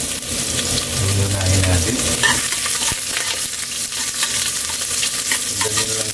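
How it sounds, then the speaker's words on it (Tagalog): Ginger hits hot oil and sizzles loudly, with stirring scrapes in the pan as a chicken binakol begins. The frying hiss runs steadily throughout, and a voice speaks a few words briefly over it. "Tara, gigisa na natin yung sangkap natin"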